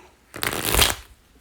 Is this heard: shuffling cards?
yes